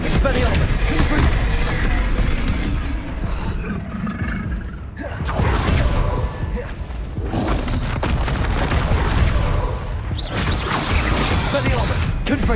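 Fiery blasts of a Confringo explosion spell cast in Hogwarts Legacy, loud booms and whooshing crashes repeating through dense game combat noise, with a voice talking over the action.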